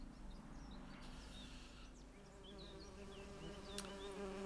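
Steady buzzing of bees swarming in The Witcher 3: Hearts of Stone, a dense insect drone that continues throughout, mixed with faint background game ambience and occasional chirps.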